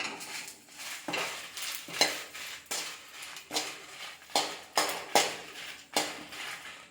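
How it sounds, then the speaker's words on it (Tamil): Garlic cloves and about twenty dried red chillies dry-roast in a pan for idli podi while a spoon stirs and scrapes them in repeated rhythmic strokes, close and clear, with a faint crackle and no talking. "20 காஞ்ச மிளகா வச்சுருக்கேன். இதையும் இது கூட போட்டு வறுத்துக்கலாம்."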